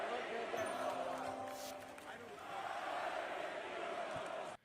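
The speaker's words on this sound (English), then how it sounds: "They're chanting "Fire Nico."" A basketball arena crowd chants in unison, a broad roaring wash of many voices rising and falling steadily, heard from a distance and fairly faint.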